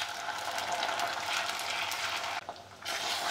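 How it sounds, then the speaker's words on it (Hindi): Ginger-garlic paste frying with onions in a pan gives a steady, close, dense sizzle that dips briefly near the end before returning, with no voices. "अदरक लहसुन डालने के बाद हम 2 मिनट और फ्राई करेंगे।"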